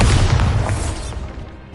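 A booming Bombarda blast spell from Hogwarts Legacy erupts loudly and deep at the start, then rolls off and rumbles away over almost two seconds, with no voice over it.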